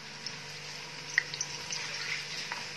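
Onions frying in oil together with meat in a pan over the fire give a steady, fairly quiet hiss and sizzle with a few small pops, and no one speaks.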